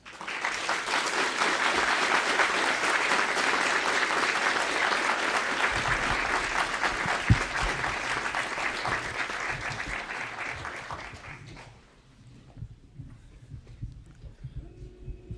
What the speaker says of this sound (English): You can see by the applause